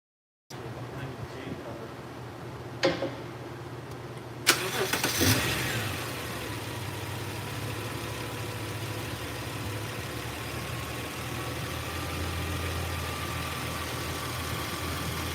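The 3.0L H6 engine of a 2009 Subaru Outback cranks and catches after a few seconds of quiet, then settles into a steady, even idle that holds close and clear for the rest of the stretch.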